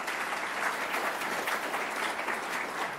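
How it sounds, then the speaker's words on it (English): An audience gives a round of applause, steady dense clapping at moderate level that holds evenly from start to finish with no voices over it. "Let's give it a round of applause."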